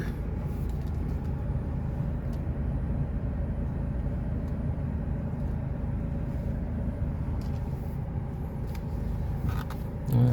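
A car pulling out of a parking area gives a steady, low engine and road rumble that holds evenly throughout at moderate loudness, with no other clear sounds.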